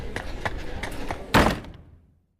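Someone at a classroom door: several soft, evenly spaced knocks or taps, then one louder thump like the door being pushed or shut, fading into silence.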